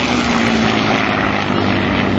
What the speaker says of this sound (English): the T-6 coming by Show Center, several of them, and the P-51 Mustang coming through it over 250